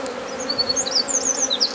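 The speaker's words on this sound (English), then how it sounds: "when I'm trying to shake bees off frames" A swarm of honey bees buzzing steadily as they are shaken off hive frames, with higher-pitched whines weaving in and out over a low droning hum, fairly close and continuous.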